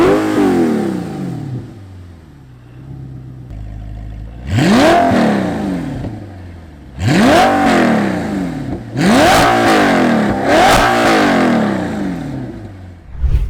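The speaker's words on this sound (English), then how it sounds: "personally, I prefer the sound of the V8" Audi R8 with a naturally aspirated V8 and custom exhaust revving hard in repeated bursts: a rising throttle blip near 4.5 s, then three more loud, sharp revs that fall back to a throaty idle between them, close and alone.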